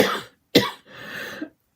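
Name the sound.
coughing fit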